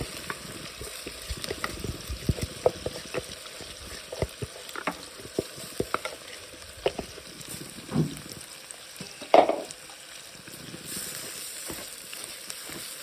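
Washed, drained basmati-style rice stirred and fried in oil and ghee for a chicken dum biryani, a soft sizzle with scattered scraping and clicking of the spoon, close and alone.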